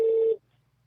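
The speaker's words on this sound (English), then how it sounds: "We're ringing. It sounds like an international call." An international telephone call ringing on the line gives a single short, steady ring tone, loud and clear, that cuts off into near silence.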